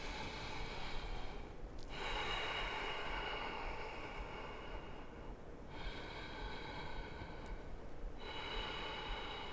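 Slow, deep breathing held in a yoga plank pose, long broad inhales and exhales close to the microphone with brief gaps between breaths, no talking.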